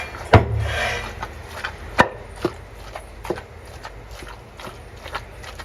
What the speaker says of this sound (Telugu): ఇప్పుడు ఇది నీట్గా దంచుకోవాలి